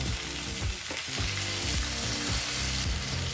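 Brinjal pieces sautéing with tomatoes in a hot pan for brinjal rice, a steady close sizzle with scraping and stirring strokes of a spatula repeating throughout.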